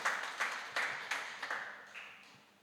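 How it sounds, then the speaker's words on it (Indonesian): Applause for God during a church worship service, heard as a few distinct bursts of hand claps that decay quickly, moderately faint and without talk. "Kita berikan tepuk tangan bagi Tuhan."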